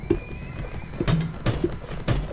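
A horse whinnies in the Mount and Blade Warband video game, mixed with clip-clop hoofbeats and sharp combat impacts at a steady pace, close and fairly loud, with no talking.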